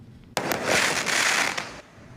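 A sudden loud burst of fireworks crackling and popping for about a second and a half, then abruptly fading out.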